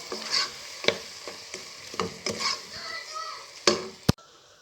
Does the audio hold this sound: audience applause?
no